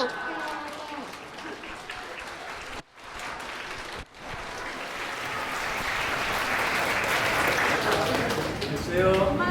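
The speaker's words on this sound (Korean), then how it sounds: "멋진 축사를 보여주신 박주하 양 그리고 박다빈 양에게 다시 한번 박수 부탁드리겠습니다" Wedding guests break into sustained applause for a child's congratulatory speech, a dense wash of clapping that swells and grows louder over several seconds, with a voice speaking over the early part.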